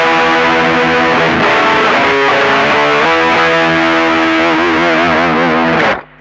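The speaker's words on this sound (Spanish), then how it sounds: "Estoy en el 6, en la ganancia de la distorsión." Ibanez RG5170G electric guitar played through distortion with gain set at 6, loud sustained chords and bending notes with a thick, saturated tone, ringing continuously before cutting off abruptly at the end.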